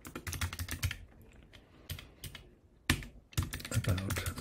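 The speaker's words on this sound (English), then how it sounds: "If I can type" Keys clatter on a computer keyboard in quick bursts of typing, close and fairly soft, with short pauses between runs of keystrokes.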